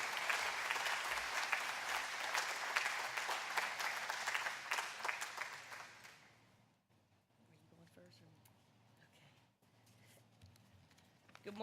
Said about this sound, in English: we can maybe give them a round of applause